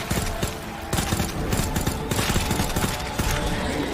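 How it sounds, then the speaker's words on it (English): Rapid bursts of gunfire blast at a boss in the video game Resident Evil 2, loud and dense, with sharp repeated shots crowding the whole stretch and no talk over them. "And let's shoot him."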